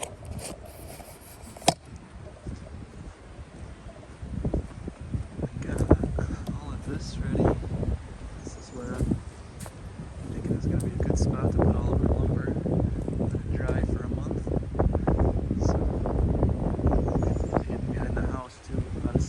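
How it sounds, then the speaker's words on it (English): Gusty wind buffets the microphone in rough, rumbling bursts, with rustling and scraping noises and a person talking intermittently over it. "So windy."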